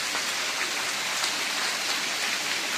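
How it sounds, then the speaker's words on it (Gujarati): Very heavy late-monsoon rain in a Gujarat village pours steadily with a dense, unbroken hiss, no voices, constant and close throughout. "અતિ ભારે વરસાદ છે"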